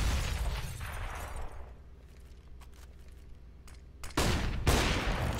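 Frag grenade and gunfire in Counter-Strike on the map de_cache during a pro match. A loud blast rumbles and fades, then sharp rapid gunshots burst out near the end, with no talk.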